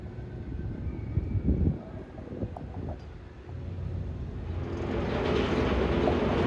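Roller coaster train at Six Flags Magic Mountain climbing the lift hill, a low rumbling rattle that builds steadily from the midpoint to the end, heard at a distance with wind noise over the microphone.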